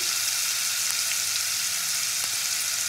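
Onion paste fries in hot oil in a pan, a steady, even sizzle and crackle that runs unbroken and fairly loud, with no talking.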